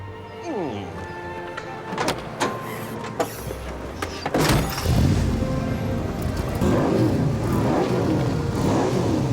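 A car engine revs and accelerates in a rising, loud burst that fills the back half, after some rustling and short mechanical noises, with voices talking around it.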